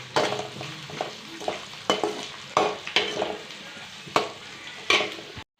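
Onions hit a pan of hot oil with green chillies already fried, sizzling loudly up close while a spoon stirs in repeated sharp scraping strokes.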